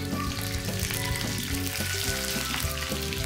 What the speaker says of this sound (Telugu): ఆ మిర్చిని ఈ వేడివేడి ఆయిల్లో వేసుకుని వేయించుకోవాలి.